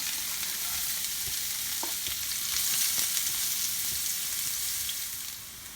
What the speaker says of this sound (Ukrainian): а ми пасируємо морковку